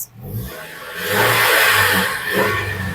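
Up close, a running 2000 cc Nissan Dualis engine hums steadily and rises in a couple of revving surges, loud and continuous throughout.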